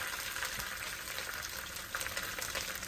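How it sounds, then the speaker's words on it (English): Cabbage frying in a pan gives a faint, continuous bubbling sizzle, steady and soft throughout with no talking. "Just put the cabbage in there. Going to kind of let it fry down some."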